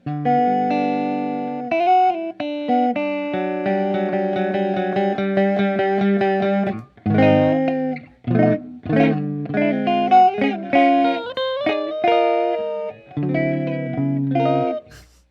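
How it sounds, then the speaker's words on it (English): Sustained electric guitar chords warped by a Recovery Effects Shortwave pedal's wobbling, pitch-drifting tape flutter and wow modulation, played loud and up close with short breaks between phrases. "make that flutter and wow sound that tapes and records make"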